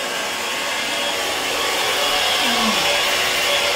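A vacuum cleaner roars steadily and loudly up close while cleaning a living room, a continuous whooshing drone with a faint rising whine partway through.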